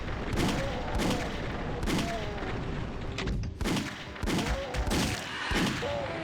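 Rockets fire and explode repeatedly in Doom, giving a steady series of loud booming blasts about once a second, each with a whooshing tail, over a dense, continuous battle din.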